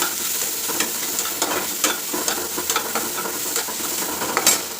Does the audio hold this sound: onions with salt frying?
yes